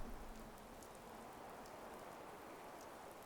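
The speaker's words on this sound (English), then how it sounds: "Hope this rain lets up soon." Steady rain falls in Fallout 4, a dense, even hiss of drops on the ground that continues without a break, soft and unbroken, with no voices.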